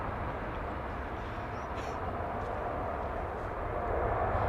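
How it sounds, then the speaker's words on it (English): A Boeing Dreamliner jet landing at London Heathrow produces a continuous low, broadband roar at moderate distance that rises slightly toward the end, with no voices over it. "that's the first operation of that Dreamliner there, folks. It's just landed."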